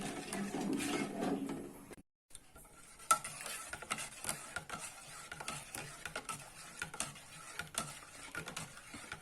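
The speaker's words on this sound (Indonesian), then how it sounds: "Selama kita masak, kita aduk-aduk terus ya, supaya santannya ini tidak pecah." A spoon scrapes and stirs steadily through coconut milk for cendol pudding cooking in a pot, with a soft simmering sizzle beneath the repeated strokes.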